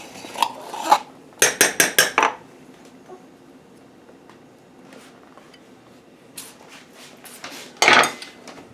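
A spoon scrapes and clinks against the inside of a metal can of tomato paste, in a few quick bursts of four or five rapid strokes with quiet gaps between, close and fairly loud.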